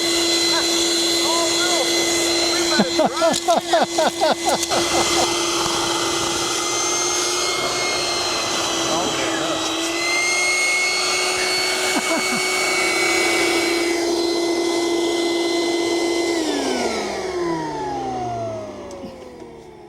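A vacuum sucks up gasoline with a steady, loud whining hum that shifts pitch as it works, broken early by a burst of rapid clattering, then winding down near the end; people talk and shout throughout.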